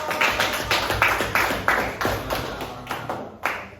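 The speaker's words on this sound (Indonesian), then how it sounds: "Tepuk tangan dong." A classroom group claps hands in response to a teacher, producing a series of distinct, fairly loud claps in uneven rhythm, roughly a dozen over a few seconds, with no talk.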